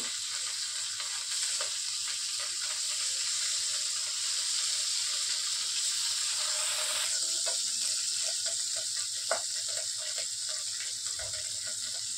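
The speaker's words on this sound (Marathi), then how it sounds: "आता आपण पनीर फ्राय करून घेऊ।" Paneer fries in oil in a pan, giving a soft, continuous sizzle with faint crackles and an occasional small pop, steady throughout and fairly quiet.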